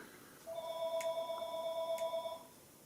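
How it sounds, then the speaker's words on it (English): A telephone rings indoors in a quiet room where a fly is being tied, a steady electronic two-second ring with a clear tone and nothing else around it. "The phone rang."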